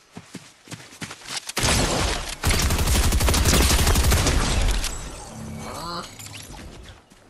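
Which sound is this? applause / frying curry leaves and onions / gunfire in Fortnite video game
gunfire in Fortnite video game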